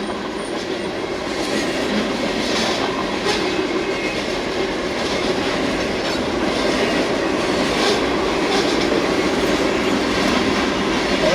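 A very long freight train of about 275 cars, including a Western Pacific boxcar, rolls steadily past close by. It gives a continuous rumble with rhythmic clickety-clack and faint wheel squeal, and no one speaks.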